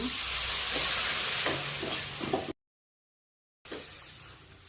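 Water splashed into a hot pan of ground dal and crushed nuts, giving a loud bursting sizzle that fades, then a gap of silence and a quieter simmering hiss afterward.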